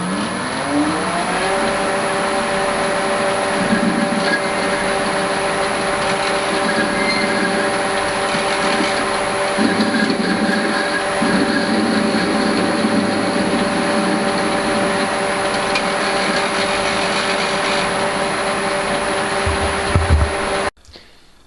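A lathe faces off the end of a 12mm scrap steel bar, giving a continuous loud machine drone with steady tonal whine and cutting noise for about 20 seconds before stopping abruptly.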